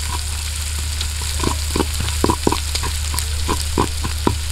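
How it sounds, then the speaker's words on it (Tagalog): Garlic frying in a pan for pork adobo, cooked outdoors: a loud, close sizzle with a run of rhythmic spatula scrapes and taps over a low steady hum. "Tapos lagay ko na yung ahos,"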